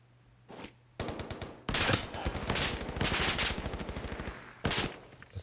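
Lost Light gunfire, a sustained rapid automatic burst of loud close shots lasting several seconds, preceded by a couple of single reports and followed by one more sharp shot.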